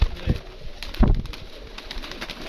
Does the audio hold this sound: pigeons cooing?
yes